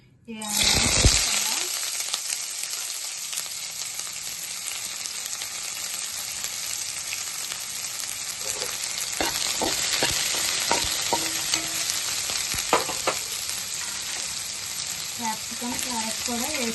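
Capsicum pieces frying in a spoonful of hot oil in a kadai make a steady, loud sizzle throughout, with a few faint clinks of stirring partway through.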